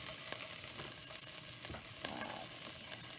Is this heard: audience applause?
no